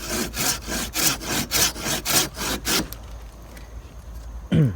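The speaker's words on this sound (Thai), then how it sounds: "ผมขอแนะนำให้เลื่อยด้านล่างแบบนี้ก่อนนะครับ" A hand saw rasps through the underside of a teak tree branch in about ten rhythmic back-and-forth strokes, then stops, leaving quieter handling sounds.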